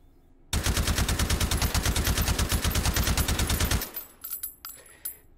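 An AKM rifle fitted with a suppressor fires a fast continuous burst in the VR shooting game H3VR, roughly three seconds of rapid loud muffled shots, followed by a few scattered clicks and clatter.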